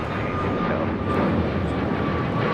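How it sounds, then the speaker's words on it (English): An American Airlines Boeing 737-800 arriving from Phoenix and landing at LAX on a calm morning, a continuous broad engine roar that holds steady and swells slightly, heard from nearby with no one talking. "This is American Airlines flight 1998 coming in from Phoenix, Arizona, 737-800."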